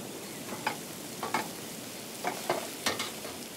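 Salmon cooks slowly in a frying pan with a soft, steady sizzle, broken by five or six brief scraping stirs; close and quiet, with nobody speaking.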